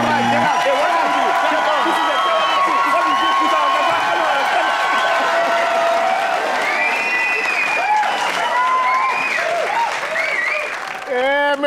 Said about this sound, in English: Give them a round of applause, please, ladies and gentlemen.